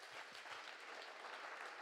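Steady applause from a crowd at an SPD political campaign event in Bremen, dense even clapping heard at a distance and fairly faint, with no speech over it.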